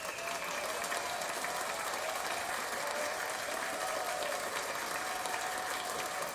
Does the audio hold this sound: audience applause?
yes